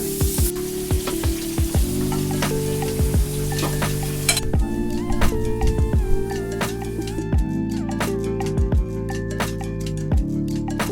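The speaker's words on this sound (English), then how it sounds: "We visited a local family who cooked us up a sumptuous feast of Thai dishes." Thai dishes sizzle and fry in a hot pan at a local family home in Bangkok, with a steady crackling hiss, repeated utensil scrapes and clinks throughout.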